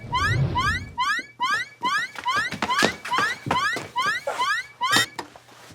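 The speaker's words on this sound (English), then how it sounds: "You set off the alarm." An alarm going off in a hub, sounding as a rapid series of repeated rising chirping tones in short bursts, loud and close, continuing steadily with no talk over it.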